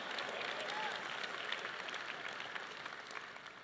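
A crowd applauds steadily, a dense wash of clapping that holds at moderate volume and slowly tapers off.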